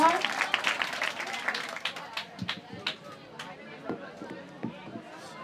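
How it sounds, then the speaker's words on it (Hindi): Gathering at a teacher's day celebration gives a burst of clapping that thins into scattered claps, with people talking and moving about nearby. "दीपा कुमारी के लिए एक बार पुनः जोरदार ताली हो जाए"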